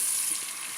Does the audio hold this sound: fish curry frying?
yes